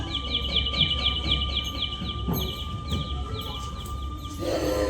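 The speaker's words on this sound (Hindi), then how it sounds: "पक्षियों का ये कलरव।" Birds chirping in a repeated rhythmic series of bright calls over a steady low rumble and background noise, moderately close and continuous throughout.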